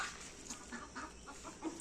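Chickens running away on foot let out a few soft, quick clucks, faint and close together over a low background hiss, with no voices.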